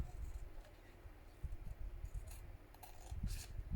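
Scissors trim excess white paper from a papercraft book-case project, giving a series of quiet, close snips and slides over a low background hum, with no talking.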